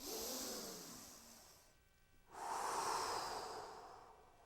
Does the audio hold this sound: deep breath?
yes